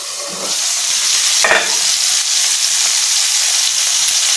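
Tomatoes and tamarind frying in a pan for chutney, a loud close sizzle that holds steady, with a brief scrape of stirring early on.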